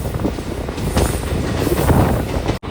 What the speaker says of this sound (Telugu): ఇక్కడ ఒక ట్రైన్ అయితే ఉంది గుంటూరు ఎక్స్ప్రెస్ ట్రైన్